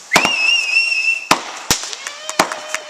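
New Year's fireworks go off nearby, a whistling rocket rising first and then a string of sharp, loud bangs and crackles at irregular intervals.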